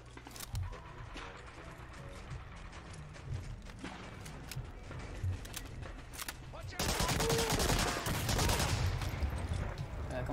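Gunfire in the WWII shooter Medal of Honor Allied Assault Spearhead, scattered shots and mechanical clatter building to a loud sustained burst of automatic fire near the end.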